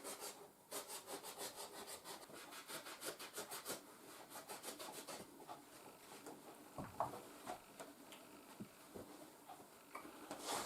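An old knife trimming excess felt from felt boots (valenki) under repair, heard as quiet, rhythmic back-and-forth scraping strokes, close up and steady, with a few scattered knocks toward the end.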